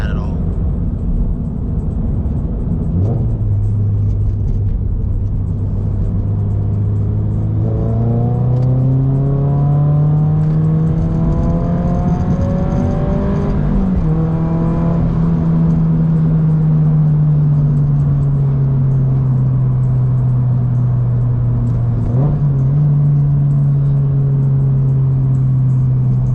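A Subaru BRZ's engine drones steadily while driving, its pitch climbing through a gear, then holding and easing off, with shifts marked by brief breaks, loud and close from inside the car.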